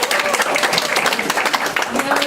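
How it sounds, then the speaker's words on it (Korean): A crowd at a citizen communication leader training session in Eunpyeong gives dense, warm applause that fills the room, loud and continuous, with a voice speaking faintly over it. "특별히 뜨거운 박수 좀 맞아주시죠"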